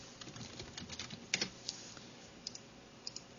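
Quiet typing on a computer keyboard while naming a new folder, a soft irregular run of light key clicks with a few sharper taps, close and alone.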